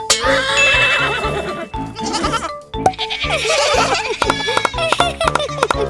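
Lambs in a children's toy pretend-play scene bleat loudly and repeatedly, several overlapping cries close by, mixed with voices and a brief giggle.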